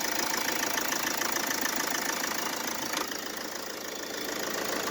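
A Mercedes engine with its belt routed past the AC pulley idles with a persistent knocking, a steady mechanical clatter heard close up and alone.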